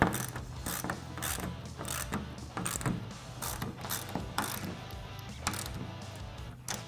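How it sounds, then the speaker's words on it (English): Ratchet wrench tightening gas strut hardware while fitting a flip windshield to a CF Moto ZForce 950 side-by-side, a steady run of close, crisp clicking strokes with brief pauses and no talk. "we'll go ahead and fully tighten our Gast strut hardware."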